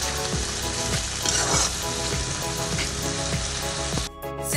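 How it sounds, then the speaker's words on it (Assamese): Onion paste with tomato and garlic fries in a pan for a chicken curry, giving a loud, steady sizzle with faint scrapes of stirring throughout, then a brief drop in level near the end. "এইখিনি অলপ সময় এতিয়া ভাজি লওঁ"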